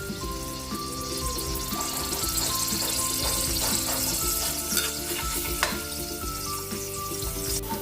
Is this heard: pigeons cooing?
no